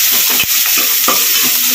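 Onion, tomato and curry leaves sautéing in a pan for a coconut milk fish kulambu, a loud close sizzle with repeated stirring scrapes and clicks of a spoon against the pan.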